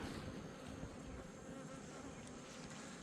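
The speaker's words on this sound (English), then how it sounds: "All right, these are the crazy bees." Honey bees hum around a hive in a low, continuous drone, faint and steady throughout with some wind noise across the microphone and no talking.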